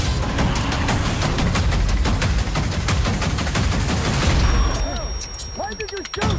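Video game gunshots, a dense, rapid stream of automatic fire and loud bangs close up for several seconds, then cutting out as voices speak briefly over a fading tail.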